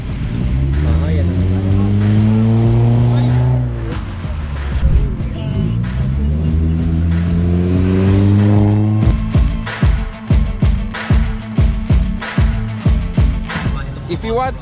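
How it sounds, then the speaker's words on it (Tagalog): Toyota Vios Gen 4 Vios Cup race cars rev loudly and close by, engines climbing through the gears and dropping at each shift, then running in short sharp bursts, with talk over the engines. "Here are Vios Gen 4 Vios Cup cars."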